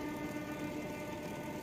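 The horn of the Dawa passenger train, running from Kertosono to Surabaya Kota, blares loud and sustained near Mojokerto station, a steady droning blast over engine rumble.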